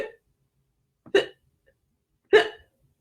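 A voice imitates hiccups for a puppet, three short, sharp hiccup sounds spaced about a second apart, near and alone with silence between them.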